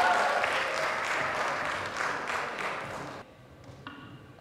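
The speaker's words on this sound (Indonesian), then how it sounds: "Tepuk tangan untuk Kongres Budaya." A crowd at the first Batak Cultural Congress applauds, a dense burst of clapping that cuts off abruptly after about three seconds, leaving a few faint taps and pings.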